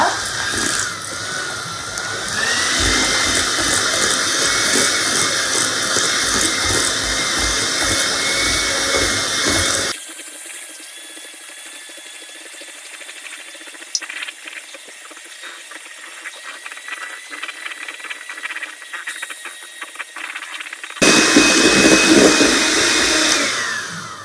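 An electric mixer runs steadily at medium-low speed, beating eggs into pecan brownie batter. Its close, continuous motor whirr drops to a lighter, quieter tone partway through, then returns louder near the end.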